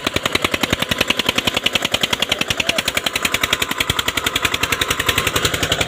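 An Eicher 241 tractor engine chugs in rapid, even, loud thumping pulses, running steadily in a field in third gear, with no voices.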